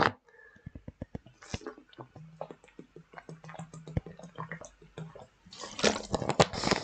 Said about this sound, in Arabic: استنى نشرب بق ميه اهو نشرب بق ميه